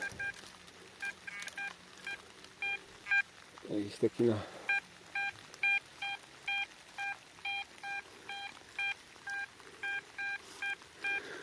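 An XP Deus metal detector sounds a string of short, evenly spaced electronic beeps while someone searches outdoors. The beeps repeat steadily, a low thump interrupts near the middle, and someone speaks briefly.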